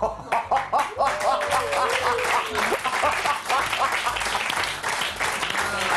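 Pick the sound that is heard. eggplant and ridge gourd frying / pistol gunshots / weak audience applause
weak audience applause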